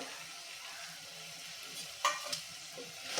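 Fried potatoes are stirred into a pan of masala, giving a soft continuous sizzle with a couple of brief scraping clatters from the stirring, fairly quiet and without talk.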